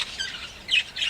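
An older pet bird gives a couple of short, harsh squawks during vent-feather trimming, close to the microphone, with no talk.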